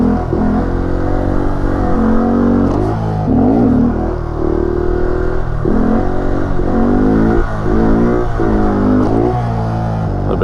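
A motorcycle engine revs up and down in repeated surges during stunt-lot foot brake practice, loud and close, with a steady rumbling idle between the rising throttle blips and no voices.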